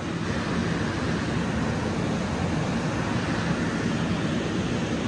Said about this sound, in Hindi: ये देखें इसका इतना शोर है ना पानी का